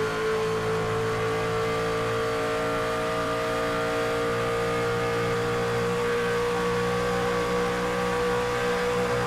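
Racing truck engines roaring at high rev in an Indianapolis truck series race in a video game, a dense, loud, continuous drone of several engines with steady tonal whine and no talk.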